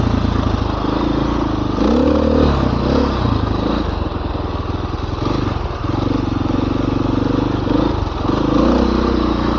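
A KTM 500 dirt bike roars steadily along a forest trail, its engine rising and falling with throttle changes under constant loud wind buffeting, heard from the rider's position with no clear talk.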